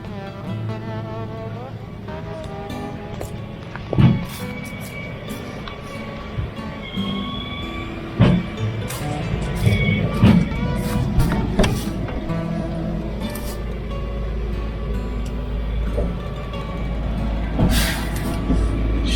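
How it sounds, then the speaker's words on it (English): An abandoned Land Rover is loaded onto a tow truck outdoors, with winch and engine rumble, metallic clanks and air-brake hisses, plus a few sharp knocks, while people talk. "the tow truck driver beat me here, so he's already getting it loaded up"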